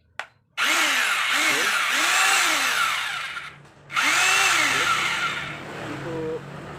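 A three-function rotary hammer drill, just repaired after dying completely, runs loud and steady on a test, cuts out briefly, then spins up again; a voice speaks a single short word.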